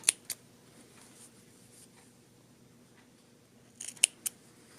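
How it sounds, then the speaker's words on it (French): Scissors cut knit ribbing fabric for a raglan sweater neckband, a few crisp, close snips at the start, then quiet, then another quick cluster of sharp cuts. "Je vais venir couper un petit peu à côté du triangle."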